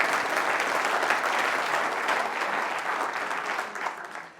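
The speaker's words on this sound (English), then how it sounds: "go ahead and applaud" An audience applauds at a history lecture, a dense wash of clapping from a large crowd that holds steady, then thins and fades out near the end.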